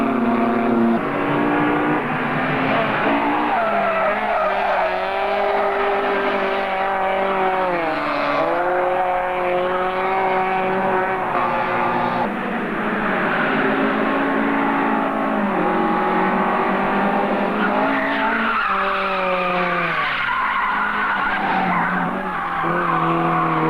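An Opel Ascona rally car races hard with loud, continuous tire skidding and squealing, the engine roaring throughout with repeated swoops in pitch as it slides through corners.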